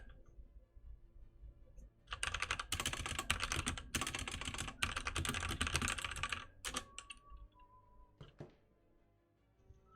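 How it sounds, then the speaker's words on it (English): Keyboard typing in a relaxed ASMR setting, with dense rapid clatter of keys across most of the span, a few brief pauses between bursts, and a couple of isolated clicks near the end. "just enjoy some Liz keyboard ASMR"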